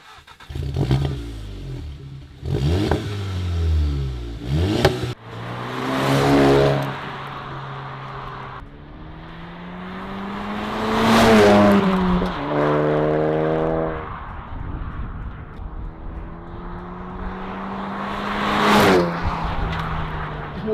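A car engine starts and is revved repeatedly, each rise in pitch falling back to idle, loud and close with no talking, on an all-original, unmodified car.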